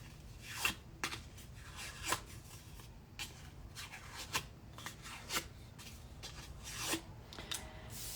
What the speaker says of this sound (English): you're using your bone folder, but you're also using your fingers to guide the paper